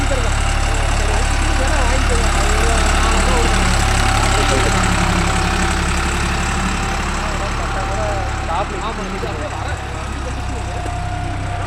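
A Deutz-Fahr Agrolux 50 hp tractor engine runs steadily at a loud, close, even idle for the whole stretch, with a constant low rumble.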